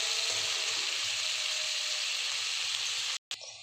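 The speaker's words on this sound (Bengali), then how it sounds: "পেঁয়াজ ভাজা হয়ে গেছে" Onions fry in a pan with a steady, even sizzle and faint low bumps beneath it, continuing unbroken until a brief silent cut near the end.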